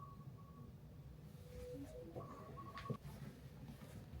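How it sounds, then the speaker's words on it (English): A phone alarm goes off in a room, a few short electronic tones rising out of a steady low background hum, moderately faint and with no talk over it. "sorry, that was my alarm"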